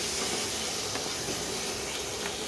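Spice paste being fried down (kosha) in a pan for a mushroom dish, with small splashes of water added to stop it burning: a steady, close hiss and sizzle that runs alone throughout at an even level.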